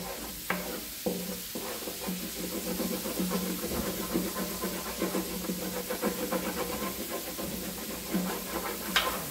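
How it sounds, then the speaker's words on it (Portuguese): Chicken sautéing in oil with garlic in a pan, a steady close sizzle and hiss with occasional scraping knocks as it is stirred, continuous throughout. "Vou deixar ele refogar aqui."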